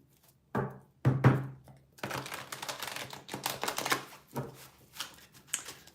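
A tarot deck shuffled by hand during a zodiac card reading: close, brisk papery riffles and clattering bursts, with a dense run of rapid card flicks after two short opening shuffles.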